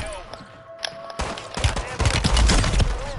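Gunfire in the video game Call of Duty Warzone on Rebirth Island, a quiet moment breaking into dense, rapid bursts of shots that grow louder and fuller, with a voice heard alongside.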